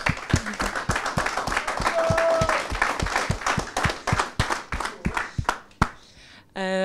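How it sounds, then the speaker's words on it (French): Applause for a fighter's new championship belt at an MMA post-fight press conference, steady dense clapping from a room of people lasting several seconds, then thinning out with a few sharp final claps. "félicitations pour ta ceinture, on peut t'applaudir."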